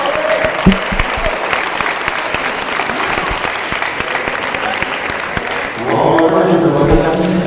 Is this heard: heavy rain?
no